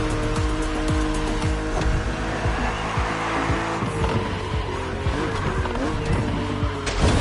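A BMW Z roadster racing an opponent in The Crew Motorfest, its engine revving up and down through gear changes with repeated tire squeals and skids, steady and close throughout.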